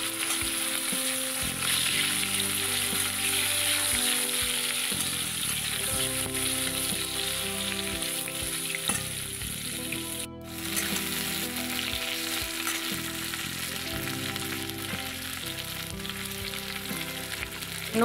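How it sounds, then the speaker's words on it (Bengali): Pointed gourd (potol) fries in hot oil in a pan for a Bengali hilsa dish, giving a loud, steady sizzle with crackling and occasional stirring, close up and unbroken throughout. "হালকা করে একটু ভেজে নেব।"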